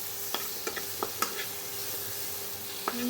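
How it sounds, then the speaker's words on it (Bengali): Chopped tomatoes fry in a pan with a steady soft sizzle. Light close taps and scrapes from a stirring utensil break through it, and a single word is spoken briefly. "এবার এই টমেটো কুচিটাকে একটু নাড়াচাড়া করে নেব।"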